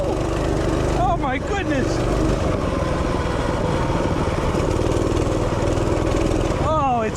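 An OryxEarth BRM200-2 gas mini bike engine drones steadily and loudly up close outdoors on grass, running without a break while a man exclaims over it.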